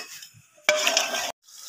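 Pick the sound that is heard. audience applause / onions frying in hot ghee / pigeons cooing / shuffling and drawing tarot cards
onions frying in hot ghee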